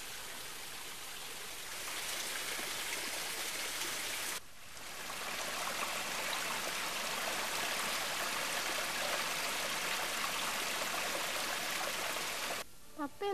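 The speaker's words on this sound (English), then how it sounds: "rhythmic sound of a stream that cascaded down the rocky slopes close to his plantation" A stream cascading down rocky slopes near a plantation rushes steadily and close, a dense continuous wash of water with a brief dip midway and a short break near the end.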